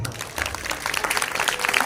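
Church congregation clapping during a Sunday morning service, a dense patter of many hands that builds and holds steady, with some voices mixed in.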